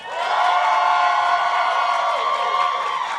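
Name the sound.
audience cheering and applauding as a vote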